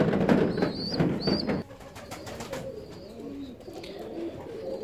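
Black Rostov fancy pigeons, a young pair, coo and call in a loft, with soft vocalizations over a busy background for the first second and a half, then quieter rustling and faint calls.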